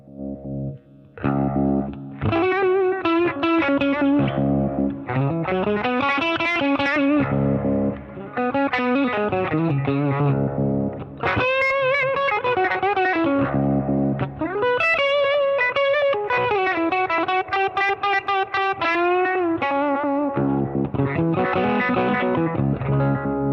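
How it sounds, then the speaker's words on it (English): An electric guitar goes through the lo-fi drive circuit of a Walrus Slotva pedal and gives a gritty, distorted tone. The player strums chords and picks lines with sliding pitch for about twenty continuous seconds, up close, with no talking. "if I dial in a little bit of that, you get this cool drive circuit"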